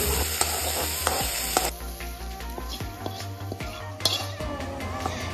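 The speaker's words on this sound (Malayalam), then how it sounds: "വെളിച്ചെണ്ണ നന്നായി ചൂടായി വരുമ്പോഴേക്കും അതിലേക്ക് ചതച്ച ഉള്ളിയും 2 വറ്റൽമുളകും കൂടി ചേർത്ത് കൊടുക്കാം" Crushed onion, two dried red chillies and curry leaves crackle and sizzle in hot coconut oil, a steady loud fry punctuated by the clink of a spoon stirring against the pan.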